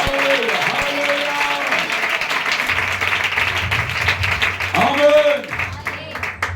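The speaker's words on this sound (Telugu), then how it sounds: "గట్టి కొట్టండి చప్పట్లు" A church congregation at a Telugu fasting revival meeting claps hands loudly and continuously, a dense steady applause, while a pastor's amplified voice calls out over it.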